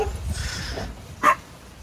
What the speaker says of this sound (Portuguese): Eles têm um cão de guarda aqui, um segurança perigoso.